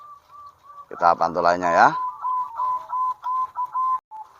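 A local crossbred zebra dove (perkutut) cooing in a clear series of rhythmic, mellow notes, close and fairly loud, with someone speaking over the start of the calls.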